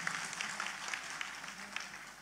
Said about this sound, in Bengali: আমি সকলকে তার জন্য একটি করতালি দিতে বলছি